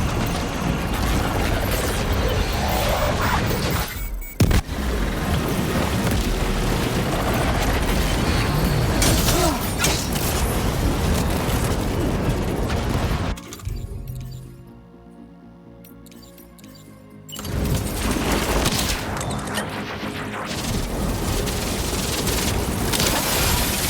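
Sustained dense gunfire and explosive clatter from a firefight in the video game Death Stranding 2, loud and continuous, with a brief sharp burst near the start and a quieter lull in the middle before the barrage resumes.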